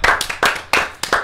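A small group claps in quick bursts, four sharp rounds of hand claps in an uneven rhythm, close and fairly loud.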